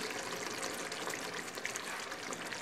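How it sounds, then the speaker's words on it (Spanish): Water pours steadily from a glass into a cooking pot for pork liver in red sauce, a continuous soft trickle and splash heard fairly faintly with no voices. "Ahora vamos a echar sobre otro vaso de agua por ahí."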